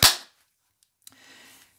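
A single sharp pop of a Umarex 92FS CO2 air pistol, 4.5 mm, shot loud and close, followed by silence, then a brief metallic click and a soft hiss.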